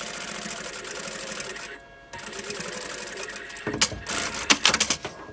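A domestic sewing machine stitches along a folded fabric hem, with steady mechanical whirring, a short pause midway, then louder bursts of stitching toward the end.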